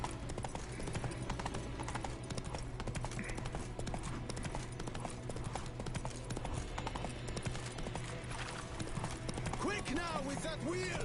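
Horse hooves clip-clop in a steady rhythm through Witcher 3, mixed into dense game sound with music and voices, carrying on without a break for the whole stretch.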